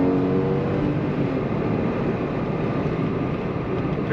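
A 1999 Porsche 911 Carrera convertible with the top up accelerates, its engine note a steady, strong drone heard from inside the cabin, with no talking.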